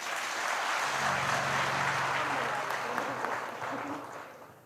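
Audience at a religious gathering breaking into sustained applause, a dense wash of clapping that fills the space and slowly tapers off, with a low voice murmuring briefly underneath.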